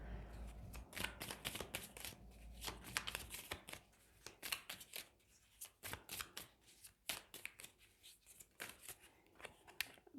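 A deck of cards being shuffled close by, with repeated crisp riffling bursts and slaps in an irregular rhythm, quiet overall, with no talking.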